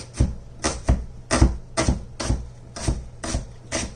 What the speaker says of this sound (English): So I'm just gonna rough chop it.